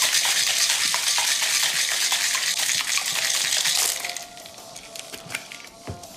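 Ice and a tequila cocktail rattling hard inside a capped shaker, a dense, loud continuous shaking for about four seconds that then drops to lighter clinks and settling ice, with no talking.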